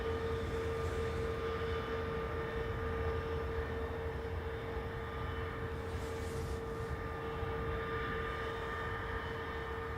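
A plane at Dublin Airport gives a steady, continuous engine roar with a constant whine, heard at some distance for the whole stretch without voices.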